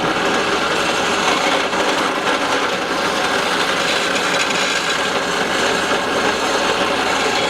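A drill runs steadily during an oil friction test, a loud, constant grinding whir with a rough rasping texture throughout, heard alone without talk.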